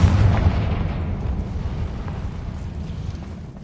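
A Confringo blasting spell goes off in Hogwarts Legacy as a heavy, booming game explosion that starts loud and rolls into a long, fading low rumble.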